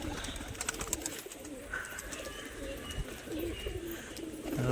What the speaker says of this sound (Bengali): আমার ঝুটি বালিগুলো সব উপরেই ডাকাডাকি করছে, দেখুন